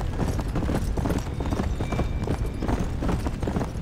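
Steady clip-clop of horse hooves at a brisk trot in Red Dead Redemption, the rhythmic beats loud and continuous over a busy background.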